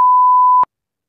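A pure electronic beep sound effect holds a single steady tone for just over half a second, loud and clean, then cuts off abruptly into silence.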